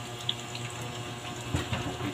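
Water runs from a kitchen tap during cooking, a steady close hiss and splash into a sink, fairly quiet and continuous with a few small clinks.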